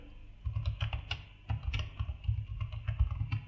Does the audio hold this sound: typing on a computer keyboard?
yes